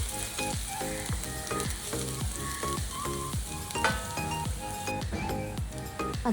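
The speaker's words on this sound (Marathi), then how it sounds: "लसूण थोडं आपल्याला गोल्डन ब्राऊन करून घ्यायचं आहे." Crushed garlic fries in a pan with a continuous, close sizzle that runs throughout, accompanied by steady pitched background tones.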